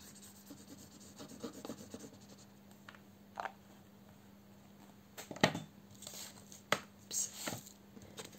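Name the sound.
gluing and folding cardboard for an album box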